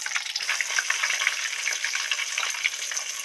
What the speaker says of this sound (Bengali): আলুগুলো কড়ার মধ্যে তেলের মধ্যে দিয়ে দিচ্ছি।